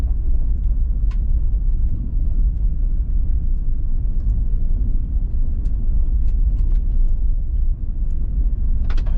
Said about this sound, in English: there's a bunch of cars